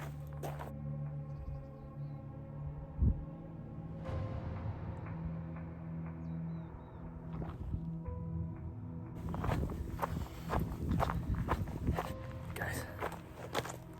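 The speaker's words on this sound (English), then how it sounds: "I noticed that all I was hearing was the crunching of my feet." Footsteps crunch on the gravel and grit of a canyon trail, close and steady, with a burst of busier crunching and rustling near the end.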